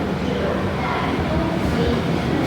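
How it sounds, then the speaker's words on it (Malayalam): The New Delhi Express rumbles steadily out of the station, a continuous low, loud rolling clatter heard close from the platform for the whole stretch. "12:15 ഈ ട്രെയിൻ പോകുന്നത് കേട്ടോ"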